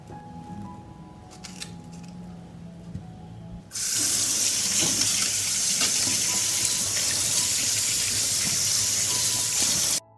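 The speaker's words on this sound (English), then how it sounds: "I will wash and clean the strawberries" Fresh strawberries being washed at a kitchen sink: a few faint handling clicks, then the tap turns on and water gushes loudly and steadily under the fruit for several seconds before cutting off abruptly.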